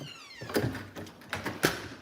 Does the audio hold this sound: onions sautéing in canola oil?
no